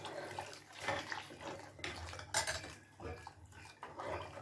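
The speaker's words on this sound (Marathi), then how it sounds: "आता ह्याच्यामध्ये हे अळणी पाणी ओतून घेऊया." Plain water poured into roasted masala in a pan for a rustic mutton curry gravy, a soft splashing pour with light clinks of metal utensils against the pan, fairly quiet and close.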